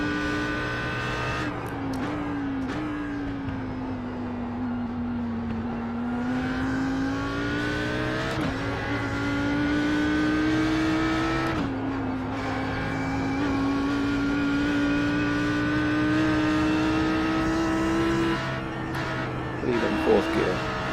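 An Audi R8 GT3 race car engine at Bathurst in a driving simulator game, a loud sustained engine note rising and falling through gear changes, with brief tire squeal near the end.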